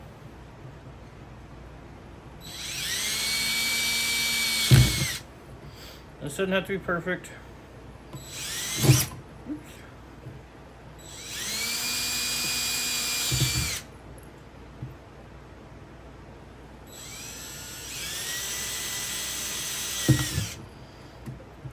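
A power drill bores holes in thin PVC pipe for an aquarium under-gravel sponge filter, with several whining bursts that rise and cut off, separated by quieter handling sounds, and someone talking between them.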